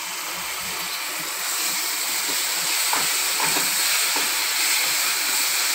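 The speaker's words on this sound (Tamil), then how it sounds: "சோயா சாஸ் கொஞ்சம் ஊற்றிக்கலாம்" Soy sauce is poured into a hot pan of Gobi Manchurian, cauliflower in a spicy sauce, giving a loud, steady hiss of sizzling that builds slightly and carries on for several seconds without any talking.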